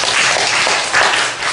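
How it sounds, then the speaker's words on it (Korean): Church congregation clapping together during a sermon, a loud, dense burst of applause that fills the space evenly from start to end. "박수 한번 쳐주시랍니까?"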